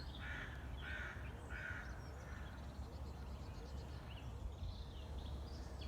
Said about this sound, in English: with all the bird song, how peaceful it is